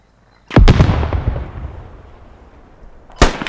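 Gunfire in the tactical shooter Squad, starting with a loud booming burst of closely spaced shots that rolls off into a long echoing decay. A second sharp shot follows near the end.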